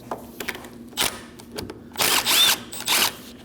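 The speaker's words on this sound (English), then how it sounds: "So go ahead and use a 17mm socket and take the nut off." Power tool spinning a 17mm socket to remove the top nut from a rear shock strut of a 2011-2016 Kia Optima, heard as several short whirring bursts with pauses, the last few longer and louder.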